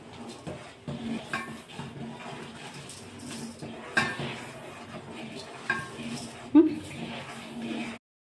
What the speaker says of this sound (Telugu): అన్ని పెటల్స్లోకి షుగర్ వేసి ఇలాగే కలపాలి.